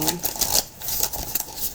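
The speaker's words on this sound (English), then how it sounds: "Let's get these decks shuffled." Oracle card decks are shuffled briefly, giving a quick series of riffling, slapping card flutters close to the microphone.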